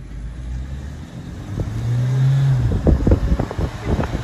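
Drag race between an Ola S1 Pro electric scooter and a Mahindra Thar outdoors, with an engine rising in pitch over wind buffeting, then rushing, flapping noise as the vehicles pass.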